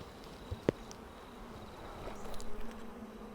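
Steady buzzing of many honey bees around an open hive, close and continuous, with a couple of sharp knocks early on and no talking.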